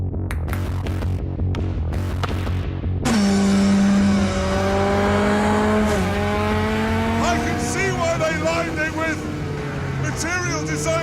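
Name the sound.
BAC Mono 280 horsepower sports car driving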